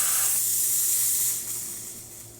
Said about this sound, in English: Here's our steam.